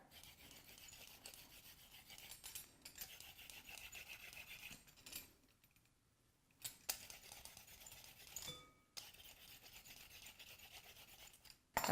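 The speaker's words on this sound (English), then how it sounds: "then I'm going to use our vegetable peeler" A handheld vegetable peeler scrapes along raw carrots in quick, rasping strokes, close and fairly quiet. The scraping comes in bursts broken by short pauses, with a few light knocks between strokes.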